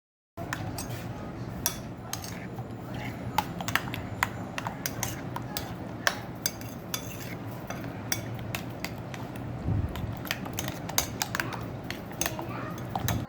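A spoon stirring chicken marinade with tomato sauce in a bowl, giving steady scraping and frequent light clinks against the bowl, close and continuous.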